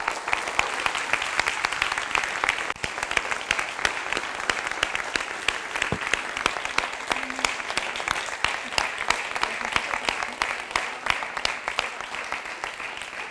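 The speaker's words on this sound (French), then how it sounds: "Je vais vous demander de faire un tonnerre d'applaudissements pour Rania Brahna" Sustained audience applause at a municipal election campaign launch rally, crisp individual claps forming a steady, fairly distant wash that runs unbroken for over ten seconds.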